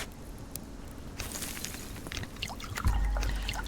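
Water pouring in the Subsistence survival game as containers are topped up: a steady trickling pour with some light footstep-like taps, swelling louder toward the end.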